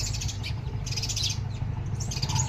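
Small birds chirping and tweeting in a tree near a sparrow nest outdoors, brief high twittering calls in scattered bursts over a low steady background rumble.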